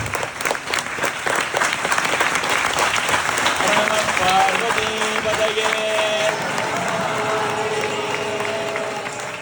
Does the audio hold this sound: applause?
yes